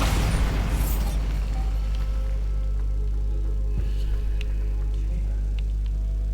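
Bombarda spell explosion in Hogwarts Legacy, inside a tomb: a heavy boom opens loudly and decays into a low, droning rumble, with a few faint thuds and clicks scattered afterward.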